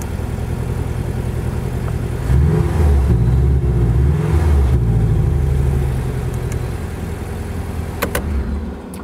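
Porsche 718 Boxster GTS (2019) with its sport exhaust engaged, a deep, loud flat-six growl that swells into a revving burst midway, then settles back to a steady rumble, with a couple of sharp pops near the end.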